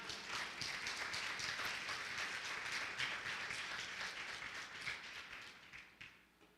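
A church congregation applauds during a service, a sustained burst of many hands clapping that holds steady, then thins and fades out over the last couple of seconds.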